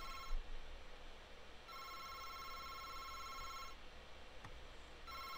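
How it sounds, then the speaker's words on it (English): An electronic alarm clock ringing in the game August Night, two long bursts of a buzzing tonal ring separated by pauses, with a third starting at the end, quiet and alone. "Oh, that's not the phone. That's the alarm clock."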